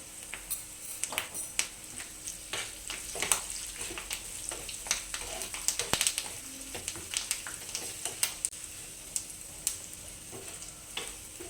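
Turmeric frying in hot tempering oil for lemon rice, a soft continuous sizzle and crackle with light spatter pops and occasional faint clinks of a utensil, close by and with no voices.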